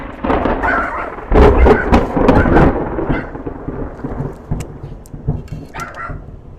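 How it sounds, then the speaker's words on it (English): Loud thunder rolls and cracks through a storm outdoors during a barbecue cook, with rain hiss underneath and a dog faintly barking; the rumble fades toward the end. "That was thunder."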